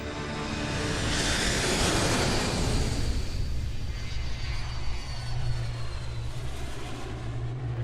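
A United Airlines airliner, Flight 175, passes overhead on course toward New York, a loud broad engine roar that swells and shifts in pitch as it goes by, with no voices.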